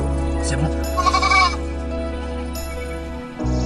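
A goat bleats loudly and close in a forest setting, one wavering cry over a steady low hum with a voice narrating underneath.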